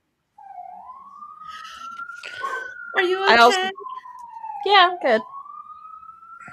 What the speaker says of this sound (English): so I apologize for the How sirens.